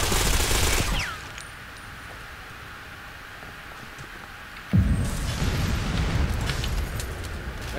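Loud blasts and rapid gunfire from the online shooter Ghost Recon Phantoms, a heavy burst of noise, a quieter lull, then another explosive surge of grenade blasts and sustained firing.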